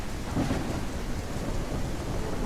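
A thunderstorm in a horseback survival game brings a constant roar of wind and heavy rain with a low rumble of thunder, loud and enveloping, with nobody speaking.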